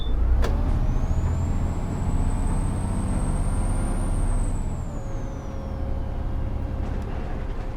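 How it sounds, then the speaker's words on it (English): A bus engine in the OMSI 2 bus simulator game rumbles steadily with a rising whine, a sharp air-brake hiss near the start, loud and close throughout. "appreciate the sounds of a nice bus, such as this is"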